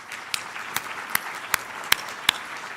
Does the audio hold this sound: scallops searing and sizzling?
no